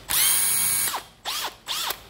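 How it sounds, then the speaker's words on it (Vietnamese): A secondhand Japanese cordless drill revs up in three short bursts, the first longest, each winding up and spinning down with a whining motor pitch, close by and with no talk. "đây là khoan nè."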